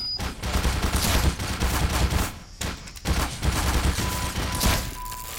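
Automated turrets in the game Black Mesa unleash dense, rapid bursts of gunfire in two long volleys split by a brief pause, loud and close with no talking.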